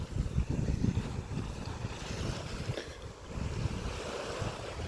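Surf rolls onto a beach in Scotland, a broad rushing wash that swells and eases, with wind buffeting the microphone. No voices are heard.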